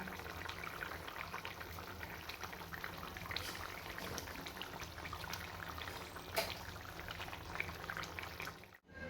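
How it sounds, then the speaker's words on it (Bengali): Hot water is poured into a simmering egg curry on the stove, giving a continuous bubbling, sloshing liquid sound that stays even for several seconds before cutting off. "বেশি জল দেবো না, অল্পই দেবো।"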